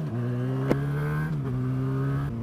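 A car passes close behind on a road, its engine a steady loud drone that shifts in pitch as it goes by, with a brief sharp knock partway through.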